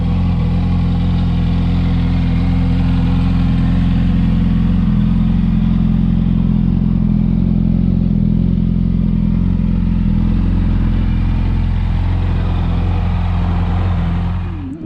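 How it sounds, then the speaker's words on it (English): A 2004 Yamaha R1 sport motorcycle with a Micron aftermarket exhaust idles steadily with a deep, mellow exhaust rumble, loud and close, holding constant before fading slightly at the end. "the Micron exhaust is probably a nice real mellow, kind of a deep tone"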